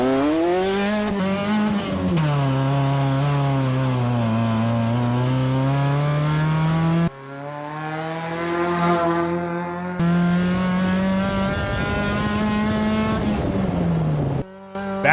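A cheap track-ready race car revs and accelerates hard, its engine note climbing and falling in long sweeping pulls with brief breaks between gears, loud and harsh throughout.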